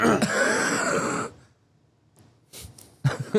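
A person clears their throat and coughs right into a microphone, a long rough rasp followed by silence, then a few short sharp coughs and breaths.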